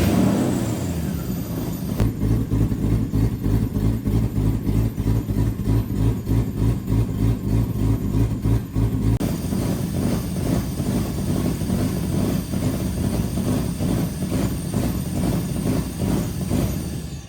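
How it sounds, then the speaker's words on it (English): A Lexus engine idles with its mass airflow sensor unplugged, giving a steady, loud, close-up mechanical drone with an even pulsing rhythm that carries on throughout without any talk. "Let's try starting it without the mass airflow sensor and see if it does the idle thing still."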